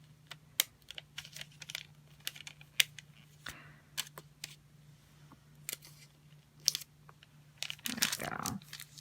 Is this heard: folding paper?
yes